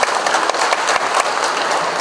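Audience applause at a journalism awards ceremony in Jakarta, given for the jury: a dense, steady wash of many hands clapping throughout, loud and sustained with no gaps.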